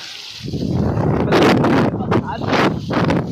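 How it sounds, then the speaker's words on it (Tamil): Strong wind gusts roar over a village outdoors, with loud broadband rushing and buffeting against the microphone that swells and eases across the whole stretch. "காற்று என்ன காற்று அடிக்கிட்டு ஊரில்."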